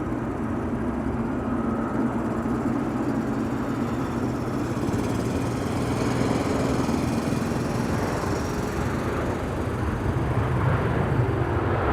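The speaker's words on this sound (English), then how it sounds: "The lawnmower that you were hearing" A lawn mower engine runs steadily nearby near Amsterdam Schiphol Airport, a continuous droning hum with a low rumble that holds at even loudness throughout, mixed with distant background engine noise.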